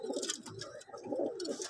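Several high flyer pigeons kept in a loft give low, bubbling coos in overlapping phrases, close by and fairly clear, with light scuffling between calls.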